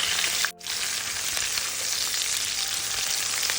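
Curry leaves, onion, garlic and green chillies fry in hot oil for a chilli garlic prawn dish, giving a loud, steady, close sizzle that breaks off briefly once before continuing.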